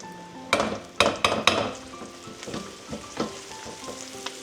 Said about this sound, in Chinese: 这个时候咱炒点面粉，为了增加这个汤的浓度哈